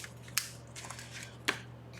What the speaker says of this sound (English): get my ribbon scissors, trim that off